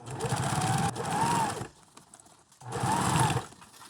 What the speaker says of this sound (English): Now we are sewing through a couple layers here.